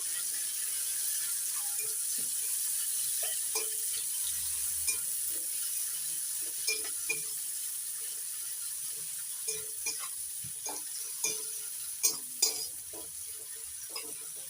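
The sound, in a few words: chopped onion stirred and frying in a pan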